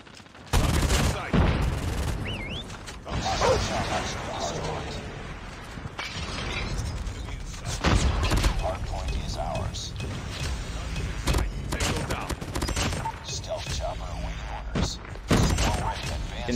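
Swordfish burst rifle firing in Call of Duty during a 2022 Season 8 match, with repeated loud bursts of shots separated by short gaps over busy game noise, one burst after another across the stretch.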